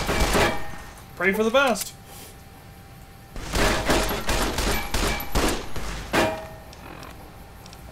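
Pistol gunfire in Fallout: New Vegas cracks out as several sharp shots in a loose run, mixed with game effects. A person talks over the shooting.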